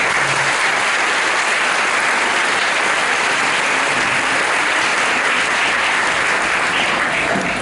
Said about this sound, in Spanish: a quien le pido un fuerte aplauso.